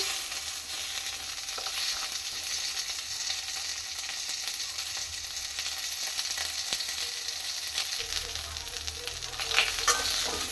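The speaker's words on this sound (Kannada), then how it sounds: "ಹುರಿತಾ ಇದೆ ಇನ್ನೂ ಸ್ವಲ್ಪ ಹೀಗೆ ಫ್ರೈ ಮಾಡೋಣ" Ridge gourd curry, North Karnataka style, fries in a pan with a constant close sizzle, while a spoon scrapes and stirs now and then throughout.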